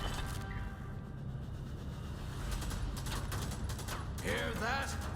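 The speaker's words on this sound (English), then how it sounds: "That's the sound of heavy armor, stopping the spread of democracy in its tracks." Gunfire rattles in rapid bursts and pings off heavy armor during Helldivers 2 gameplay, fairly faint and mixed with whooshes and impacts.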